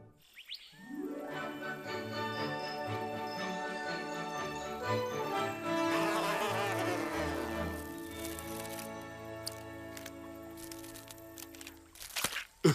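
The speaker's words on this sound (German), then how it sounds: "Der arme Bob hat dich von der Fliege befreit und so bedankst du dich?" A cartoon fly buzzes in an animated jungle show, a bright electronic whine that sweeps and warbles in rising and falling pitches, then ends with a few sharp clicks.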